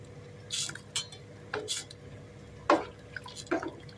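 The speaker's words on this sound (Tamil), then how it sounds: "கொஞ்சம் லேசாக கலக்கி விட்டுட்டு" A spoon stirs tamarind and masala in a pot of fish curry, giving soft scraping and clinking strokes with faint liquid sloshing, several in irregular succession, close and quiet.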